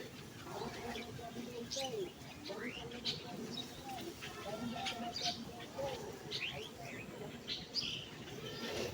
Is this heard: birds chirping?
yes